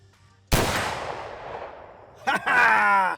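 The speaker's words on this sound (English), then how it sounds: "Dead center first shot." One loud, sharp rifle gunshot with a long rolling echo tail, followed moments later by a burst of voices reacting close by.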